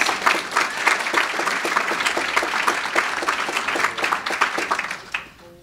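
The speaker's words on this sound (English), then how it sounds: "Let's give the council a round of applause" A room of people at a city's annual State of the City address breaks into sustained applause for the city council, many hands clapping steadily at close range before it fades out.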